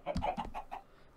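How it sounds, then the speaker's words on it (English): Two chickens cluck a few times at close range in a Minecraft-style block-building server game, short soft clucks with no talk over them. "And we've got a couple of chickens."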